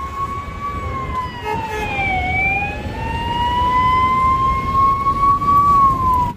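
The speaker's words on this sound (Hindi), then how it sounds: "एम्बुलेंस को तो भाई जल्दी दे देनी चाहिए साइड लग फंसी खड़ी वहीं पर एम्बुलेंस" An ambulance siren wails loudly in traffic, its pitch sweeping slowly up and down over a constant rumble of road noise and passing vehicles.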